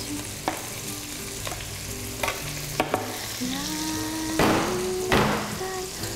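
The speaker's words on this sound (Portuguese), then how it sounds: "na panela para ela ir refogando junto com as carnes" Onion sautéing with meats in a pot for cassoulet, a steady sizzle with stirring scrapes and a few sharp knocks of a utensil against the pot.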